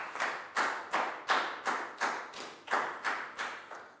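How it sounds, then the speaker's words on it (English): A class of primary school pupils claps for a classmate during a maths lesson, about ten distinct, evenly spaced unison claps in a steady rhythm, close and clear, with no talking. "High five and a big round of applause for Dan"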